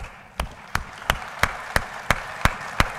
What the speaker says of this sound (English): A special round of applause for our guest